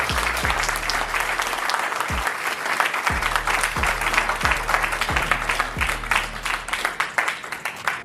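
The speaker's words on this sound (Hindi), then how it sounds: "जोरदार ताली दें।" A large seminar crowd gives sustained, loud applause. Dense clapping fills the whole stretch, and a low rhythmic thumping from a sound system runs underneath.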